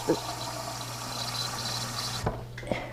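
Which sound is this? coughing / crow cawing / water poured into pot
water poured into pot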